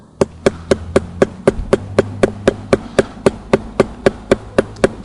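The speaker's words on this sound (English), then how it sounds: "I'm just going to tap it in real light." A light hammer taps a threaded bolt in a fast, steady series of sharp metallic strikes, close and loud, with an insect-like buzz beneath them.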